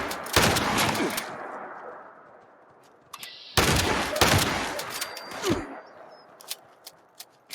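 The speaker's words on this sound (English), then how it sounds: "I just got shot by a sniper." Sniper rifle fire in Fallout 76: several loud, sharp cracks and bursts of shots with echoing tails, split by a quieter pause partway through.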